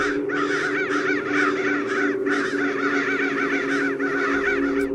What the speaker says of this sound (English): their wings all flapping at the same time, their caws all at once